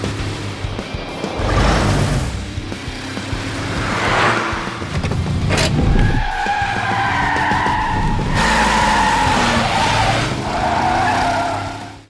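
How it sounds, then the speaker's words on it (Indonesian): A race car revs hard and its tires skid and squeal loudly through a race, sustained, close engine roar with screeching bursts and no voices. "Mamang Sen pun langsung menggeber mobil berusaha sekuat tenaga menyusul kelompok Bing"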